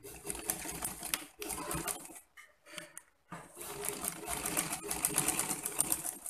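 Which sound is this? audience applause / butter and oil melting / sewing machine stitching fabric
sewing machine stitching fabric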